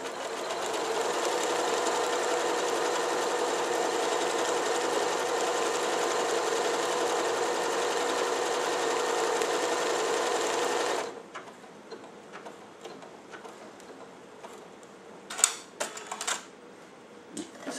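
An Elna Excellence 740 semi-industrial quilting sewing machine stitches steadily in a close, even, rapid whir for about eleven seconds, then stops abruptly, leaving light clicks and handling sounds.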